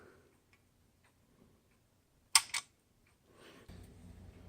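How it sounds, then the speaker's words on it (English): The wheel of a 1904 Bull's Head perfume vendor is cranked, giving faint mechanical ticks and then a sharp double click, followed by a low whirring rumble near the end. "I crank the wheel"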